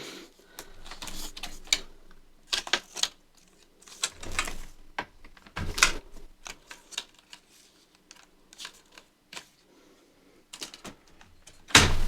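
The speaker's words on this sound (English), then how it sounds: "we are going to try to remove the ribbon cables that are holding the keyboard in place" Clicks, snaps and small plastic knocks from ribbon cable connectors being released under an Asus X550JK laptop keyboard, scattered irregular taps close up with quiet gaps between them and a sharper knock at the end.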